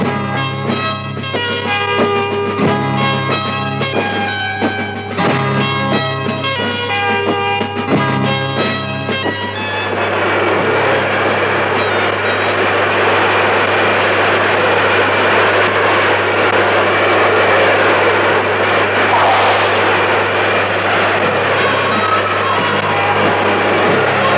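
Loud, constant roar of Concorde engines fills the cabin in flight, with a low steady drone and broad rushing noise; faint voices blend in early on.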